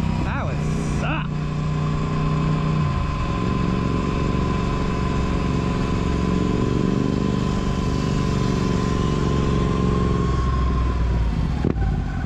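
Sur-Ron electric dirt bike ridden in wheelies at night, with a steady, loud motor whine and rushing road noise holding a sustained tone, plus a brief rising pitch near the start and a voice speaking early on.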